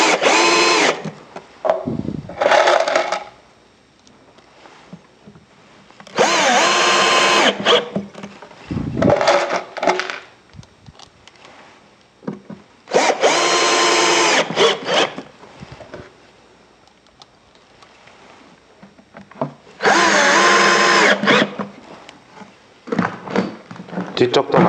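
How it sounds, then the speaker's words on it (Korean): A power drill drives 30mm screws into a wooden drawer top, with four loud whirring bursts separated by quieter handling noise and knocks. "(30mm) 나사못을 이용해서 상판을 박도록 하겠습니다."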